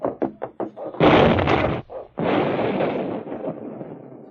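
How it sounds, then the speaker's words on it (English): A radio-drama explosion effect erupts as a loud, thudding blast, followed by a second long, rumbling roar after a series of sharp knocks, all close and heavy with no voices over it. "the sound of the explosion came to their ears"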